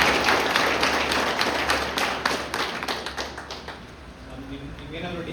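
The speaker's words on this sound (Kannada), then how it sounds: "ಜೋರಾಗಿ ಒಂದು ಚಪ್ಪಾಳೆ ಹೊಡಿ." Loud crowd clapping at a recruitment protest gathering, dense broadband claps fading over a few seconds with faint voices underneath toward the end.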